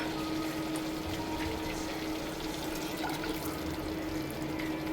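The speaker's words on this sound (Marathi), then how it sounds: "मी जास्त वाट न बघता याच्यामध्ये थोडंसं पाणी ॲड करणार आहे" A steady hiss and splash of water being poured continuously into a pan of frying masala for chole, close by and fairly even throughout, with no speech.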